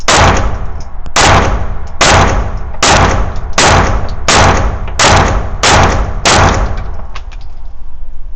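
Canik TTI Combat pistol fires eight loud, close gunshots at a steady pace of roughly one shot per second, each a sharp crack with a short ringing tail.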